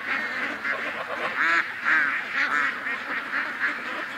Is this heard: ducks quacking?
yes